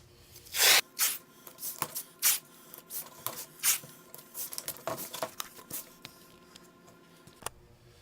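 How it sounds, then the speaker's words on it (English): Blue masking tape pulled off the roll and pressed down over cardboard, a run of sharp ripping and rubbing bursts with quieter patting and smoothing between them, close by with no talking. "I'm going to take some blue masking tape."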